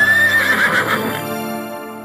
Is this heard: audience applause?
no